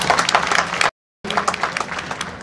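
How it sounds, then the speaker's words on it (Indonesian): Audience clapping at a talk, a close, fairly loud burst of many hands broken by a brief total gap before resuming. "Kita tepuk tangan"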